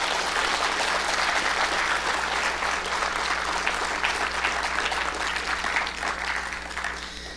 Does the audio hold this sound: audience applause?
yes